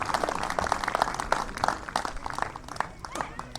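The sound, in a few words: audience applause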